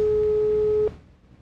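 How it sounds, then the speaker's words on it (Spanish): A telephone line tone heard after dialing a Mexican government health institute's hotline, a single steady loud tone holding for under a second and then cutting off abruptly into quiet hiss. "Es el tono de marcación."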